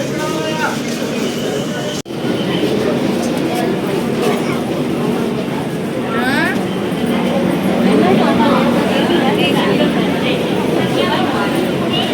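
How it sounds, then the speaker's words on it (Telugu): Busy crowded platform at Tirupati railway station just after the Narsapur–Dharmavaram Express pulls in, with a steady rumble of train and station bustle throughout and voices talking over it. "ట్రైన్ వచ్చినట్టుంది ఇప్పుడే"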